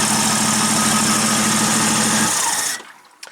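A smoky AMX car engine idles loudly and steadily, then is shut off and cuts out abruptly, leaving near silence with a small knock at the end.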